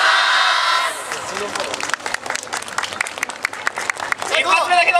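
A crowd at a yosakoi dance festival claps and cheers, a dense rhythmic burst of applause under an amplified announcer's voice, swelling again at the end.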